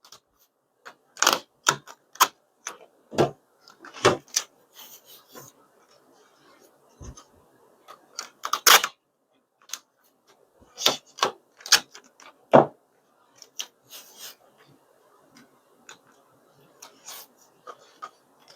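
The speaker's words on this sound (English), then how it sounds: "I'm going to go ahead and tape it long ways." Packing tape being pulled and pressed onto the outer wrapping of an art package, heard as a series of sharp, close crackling rips and taps in irregular bursts with quiet gaps between.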